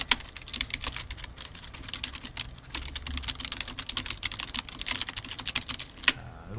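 Fast, steady typing on a computer keyboard, with dense clicking keystrokes throughout and a sharper key press near the end, fairly quiet and close with no voices.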